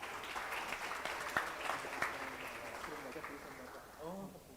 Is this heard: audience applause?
yes